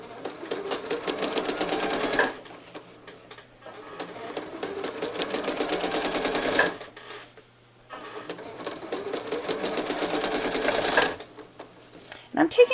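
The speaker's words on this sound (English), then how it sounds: "I don't like to leave the needle running while I'm moving the template" A sewing machine stitches a quilt in three sustained bursts of rapid needle rattle, separated by short pauses as the quilter lifts off the pedal to move a template, ending with a few faint clicks.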